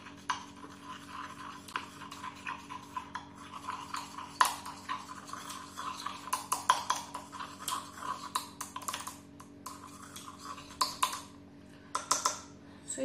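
A spoon or spatula gently mixing aloe vera face cleanser ingredients, CAPB and SCI, in a bowl: quiet irregular clicks and light taps against the container, scattered continuously and close by, with no voices.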